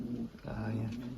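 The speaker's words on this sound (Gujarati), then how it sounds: "આવી ગઈ એક કબૂતર આવી ગયું ભાઈ આપણું." A pigeon coos at a nesting box with eggs, giving low, soft repeated coos close by, while a person talks faintly in the background.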